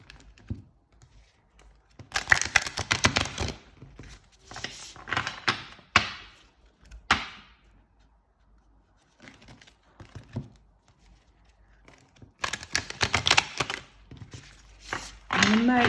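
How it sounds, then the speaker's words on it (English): Large Les Vampires oracle deck cards being shuffled, bursts of papery riffling and rapid flicking in several close bursts separated by pauses, with a voice talking in between. "Wow, quite easy to shuffle."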